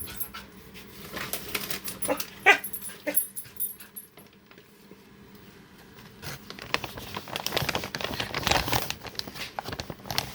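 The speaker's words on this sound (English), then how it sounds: "excited puppies, so my legs are getting rammed" Excited puppies scamper and jostle close by, with bursts of pattering paws, scuffling, whimpers and short yelps that are busy early on, ease off, then build again into a louder scramble.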